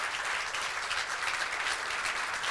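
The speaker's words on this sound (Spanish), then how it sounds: "Un aplauso al equipo de Argentina" An audience applauds a team from Argentina at a Chilean cinema event, a steady, even wash of many hands clapping throughout, with no talking.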